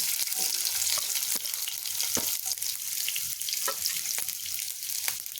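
Onions frying in hot oil in a pan for burnt brinjal chutney, a steady close sizzle and crackle with scattered stirring clicks, and no talking.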